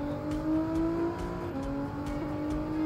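A Nissan GT-R with an upgraded exhaust in Gran Turismo 7 drones steadily under acceleration, with faint crackles and pops from the exhaust scattered throughout at moderate volume.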